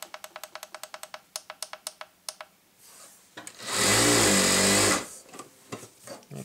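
A JACK JK 9100 industrial sewing machine, not yet filled with oil, stitches in quick rhythmic bursts of clicks, then runs in a loud continuous whir for about a second before returning to short clicking; no one speaks.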